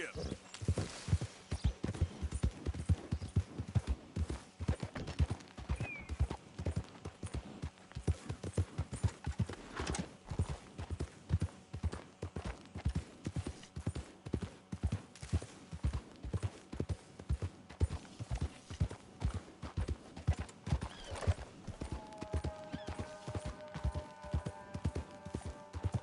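Horse hooves clop in a fast, steady rhythm in the Western video game Red Dead Redemption 2, close and continuous, with a brief whinny and a voice partway through.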